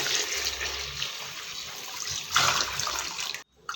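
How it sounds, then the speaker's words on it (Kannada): Water poured into coarse rice for Coorg papputtu, a steady close rushing pour with a brief louder splash before it stops abruptly near the end, no voices. "ನಾಲ್ಕು ಕಪ್ ತರಿಗೆ ಆರು ಕಪ್ ನೀರನ್ನು ಬಳಸ್ತಾ ಇದ್ದೀನಿ"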